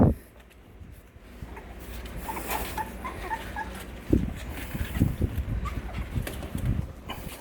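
A dog whimpers and whines softly in high thin cries, repeated over a quiet, muffled background, fairly close.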